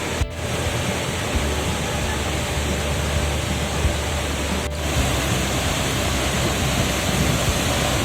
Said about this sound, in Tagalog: So ito ang Buntot Palos Falls.